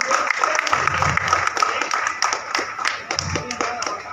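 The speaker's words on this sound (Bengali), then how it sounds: "জোরে জোরে তালি" Applause for a guest at a Hilsa festival at the Udaipur Organizational Club, with a dense patter of hand claps that swells and fades over a few seconds while people talk and call out nearby.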